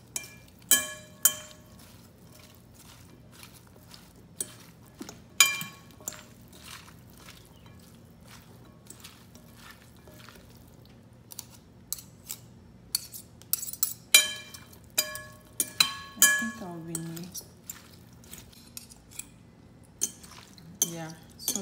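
A spoon mixes egg salad seasoned with salt and black pepper in a bowl, giving scattered light clinks and scrapes against the dish, some in quick clusters and some isolated.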